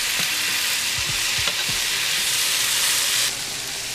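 Tomatoes cooking in a hot pan for Jamaican ackee and saltfish, a dense, loud, hissing sizzle throughout with a few knocks of a stirring utensil early on, dropping slightly near the end, close and without speech.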